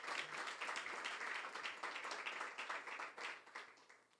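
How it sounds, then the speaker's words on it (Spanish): A church congregation claps during a pastor's sermon, a steady wash of applause with uneven peaks that gradually fades toward the end, heard at a moderate distance. "no sé si le das un aplauso a Dios por eso"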